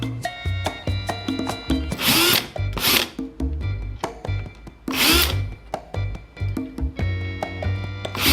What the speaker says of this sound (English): so I used my power screwdriver to get them out